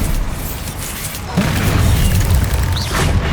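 Bombarda explosion spell cast in Hogwarts Legacy, a booming magical blast that swells from a low rumble into a sustained loud burst with a crackling tail, over a game's ambient sound.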